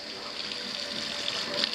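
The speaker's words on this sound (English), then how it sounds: "Hot water, yay, hot water." Hot water running steadily from a tap during a home plumbing and appliance inspection, a continuous hissing splash that stays fairly close and grows slightly louder toward the end.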